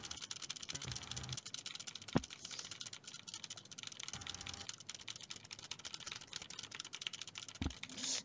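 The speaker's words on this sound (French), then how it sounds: "J'entends ton clavier." Rapid, continuous clicking of a computer keyboard being typed on, close and fairly quiet, with a few sharper key taps standing out.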